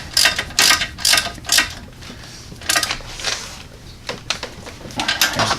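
A hand ratchet snugs brake bolts with locking washers on a Hyundai Sonata during a front brake job, giving repeated bursts of sharp metallic clicking in uneven groups, close and fairly loud, with short pauses between strokes.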